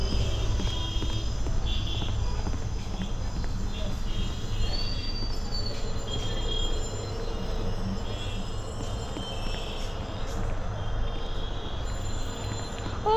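A train rumbles past in a horror video game, a continuous heavy low roar with rattling wagons and faint high wheel squeals, steady throughout the scene.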